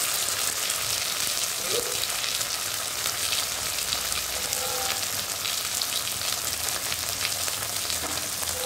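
Spice paste of ginger, cumin and chilli with turmeric fries for a rohu fish curry, a steady dense sizzling hiss that stays loud and close throughout, with a few faint utensil touches.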